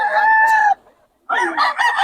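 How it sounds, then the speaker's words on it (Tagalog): A rooster crows loudly and close by, with one long crow, a brief pause, then a second, rougher burst. "Pogi ng manok ni Boss Ben"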